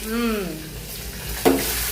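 Broad beans sizzle steadily in a hot pan as a tempering cooks, a brief voice-like tone at the start and a sharp clink or stir near the end over the constant frying hiss.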